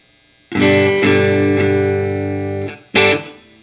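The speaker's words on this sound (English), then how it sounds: "we're going to flip this over to the distortion side" Electric guitar through a Fender Frontman amp on its distortion channel, a dirty, gain-laden chord ringing and sustaining for about two seconds, then a second short strum, loud and close with no talking.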